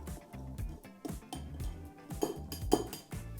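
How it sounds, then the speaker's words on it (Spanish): Dry cake ingredients for a hot milk cake mixed in a bowl, a utensil tapping and clinking against the sides in a steady, fairly quiet rhythm of light knocks, with no voices. "Mezclamos un poco nuestros ingredientes secos y los vamos a tamizar."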